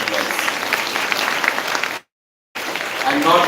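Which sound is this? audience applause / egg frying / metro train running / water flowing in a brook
audience applause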